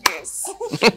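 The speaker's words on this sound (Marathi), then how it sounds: "टाळी दे" A single sharp hand clap of a high five lands near the start, followed by people talking and laughing.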